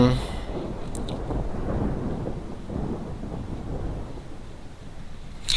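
Low, rolling thunder from a video game thunderstorm rumbles steadily beneath rain and wind, filling the whole stretch without a break.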